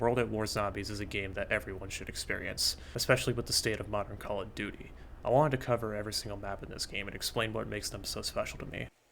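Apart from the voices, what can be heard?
No distinct noise like a dog, phone or traffic.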